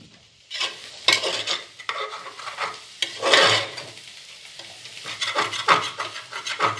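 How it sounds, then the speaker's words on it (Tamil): Yogurt being stirred into sizzling beef biryani masala in a pot, rhythmic scraping strokes of a spoon against the pot over a bubbling sizzle, coming in repeated bursts with short pauses. "ஒரு கப்பு தயிர் போடணும். தயிர் போட்டு நல்லா கிளறி விடணும்."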